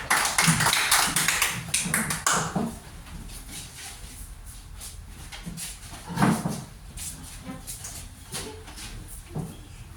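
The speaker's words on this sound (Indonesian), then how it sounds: "Tepuk tangan buat kelompok" Group applause for presenters in a classroom session, a burst of quick, close claps that fades after a few seconds, followed by scattered lighter claps and thumps in a quieter room.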